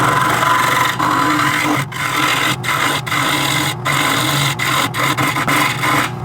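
A turning tool cuts a wooden blank spinning on a WEN 3424T mini wood lathe, a steady close rasping hiss with a humming motor underneath, broken by brief dips where the tool lifts off.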